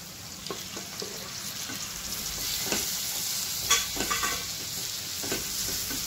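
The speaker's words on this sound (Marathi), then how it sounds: "दोन मिनिटं कोळंबी परतून घेऊया" Prawns sautéing in a pan for prawn masala fry, a steady close sizzle with occasional stirring scrapes and clicks from a spoon, without any voices.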